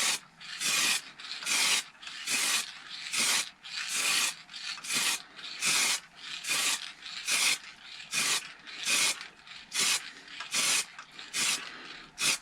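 Rhythmic rasping strokes of sandpaper rubbing on a wooden bowl, about a dozen and a half even back-and-forth passes at a steady pace, close and fairly quiet.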